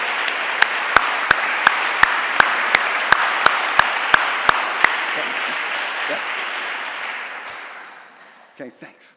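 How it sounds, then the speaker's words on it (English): Steady applause from an audience at a school fall athletic awards ceremony, a sharp regular clap standing out above the crowd for several seconds before the clapping thins out and fades. "Please join me in one more round of applause"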